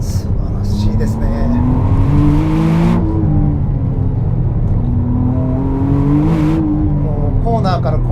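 A 2025 McLaren Artura on a narrow winding road, its engine rising in pitch twice toward the rev limit and easing off between bends, heard from inside the car under someone talking.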